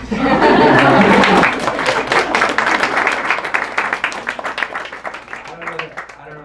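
A book reading audience breaks into applause, loud and full at first, then tapering into lighter scattered claps with some chuckling and talk underneath.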